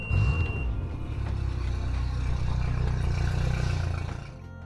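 A Mercury 60 HP EFI outboard motor idles while warming up, flushed through a hose port, giving a steady low engine hum close by that eases slightly near the end.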